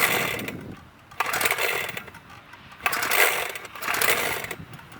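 A GeoRipper Series7 small engine is pull-started with a foot in the loop, heard as several rough, loud rasping pulls of the cord separated by short pauses.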